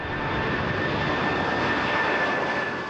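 Steady, loud roar of jumbo jet engines, a continuous broadband rush with a faint whine on top, alone without speech.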